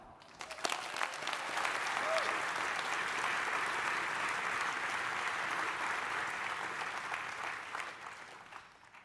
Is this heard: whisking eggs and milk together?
no